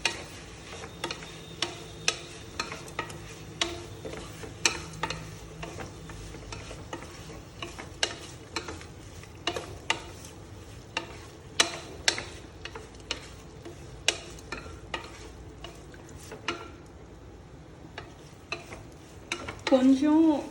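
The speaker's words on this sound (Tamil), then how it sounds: "So I'm going to continue stirring this." A spoon stirs chicken biryani masala in a pot, with irregular scraping clicks and knocks over a soft, steady sizzle throughout, close and moderately loud, with no talking.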